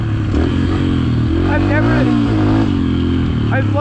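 A dirt bike's engine revs and drones loudly on a trail, pitch rising and falling as the throttle changes, with a voice talking over the engine noise.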